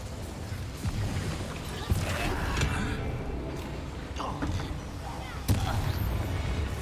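A Confringo blast spell cast in the Hogwarts Legacy video game, with loud booming crashes at about 2 and 5.5 seconds over a dense clamour of game combat and voices.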